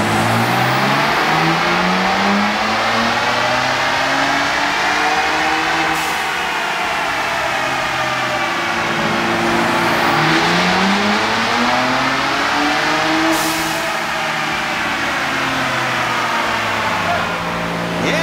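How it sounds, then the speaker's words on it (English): Ford Bronco Raptor truck on a dyno with a Whipple tune, its engine revving hard and loud in long sweeping pulls that rise and fall through the gears, filling the room continuously. "start up the truck, make sure everything is right here, unplug the module, and then do our first run here on the dyno"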